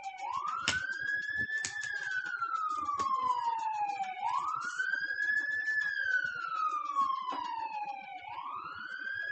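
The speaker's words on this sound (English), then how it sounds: "Hold on, there's an ambulance passing." An ambulance siren wails in slow rising and falling sweeps, steady and fairly loud as it passes, with no other sounds around it.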